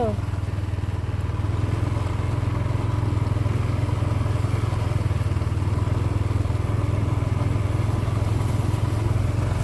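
Motorcycle engine chugging loud and steady as it rides a rough, harsh dirt path while fruit picking, with rattling and clatter over the engine and a voice speaking briefly.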